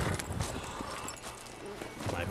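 Horse hooves clip-clop in a steady rhythm at close range in The Witcher 3 video game, with game sounds and a voice talking over them.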